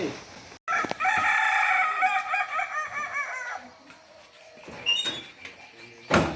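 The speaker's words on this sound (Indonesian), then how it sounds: "terdengar kicau burung, terdengar kokok ayam" A rooster crows loudly nearby in a village, one long drawn-out call, followed by softer clucking and scattered rustling sounds.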